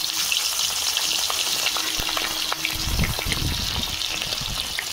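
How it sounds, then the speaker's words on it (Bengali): Fish frying in hot oil, a steady close sizzle throughout, with a brief lower gurgling rush midway. "তেল গরম হয়ে গেছে, মাছ দিয়ে দেবো।"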